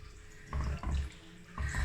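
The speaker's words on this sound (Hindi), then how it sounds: "4 नहीं 3 कटोरियाँ पानी की डालेंगे" Water pours in three bursts into a pot of masoor dal, a low gushing splash that stops and starts, close and fairly loud with no talking.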